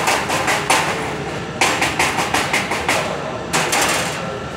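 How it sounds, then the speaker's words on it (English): Chipping hammer knocking slag off a stick weld on metal, a series of sharp metallic taps in quick bursts with short pauses, close and loud. "I'm going to chip away at your slag"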